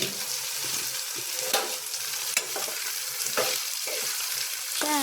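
Bitter gourd and tomato fry in a pan for a Karnataka-style palya, giving a steady close sizzle broken by occasional scraping stirs, with no voices.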